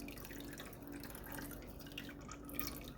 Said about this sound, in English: this is where the soap comes together. The lye water and the oils.